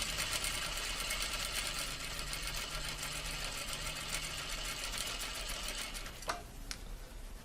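A sewing machine runs steadily along a chalk line on fabric, its continuous close whir broken near the end by a brief knock, with no voices.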